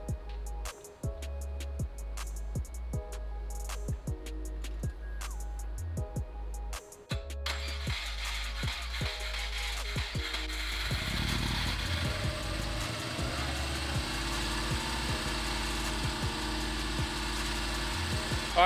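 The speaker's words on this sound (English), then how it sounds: "that car is very loud, but our jumper harness worked" Subaru GC8 car engine cranks and starts, then runs loudly at a rough, steady idle, close and dominant.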